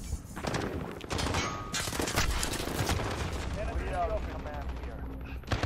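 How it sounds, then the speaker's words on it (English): Rapid gunfire rattles in a Call of Duty Modern Warfare 2019 multiplayer match, dense bursts of shots in the first half fading into quieter game sounds, with a player talking over it. "someone's shooting!"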